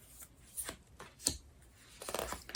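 Tarot cards being shuffled by hand, a few soft riffling and sliding bursts of card noise close up, spaced irregularly with quiet gaps between them and no talking.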